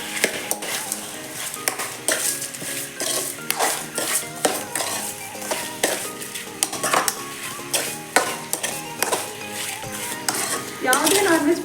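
Chicken chops fry in a pan with rock salt and spice powder, stirred for a village-style Indian chicken dish. A spoon repeatedly scrapes and knocks against the pan over a steady sizzle, close up, with no voices.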